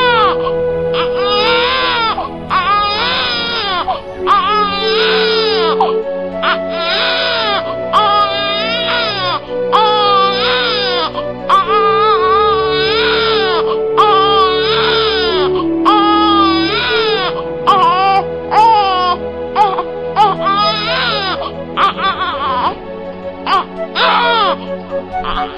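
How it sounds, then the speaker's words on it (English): A child cries loudly and continuously in repeated sobbing wails over a sustained musical background in a Nigerian epic drama about a slave child. "Is that not a child crying?"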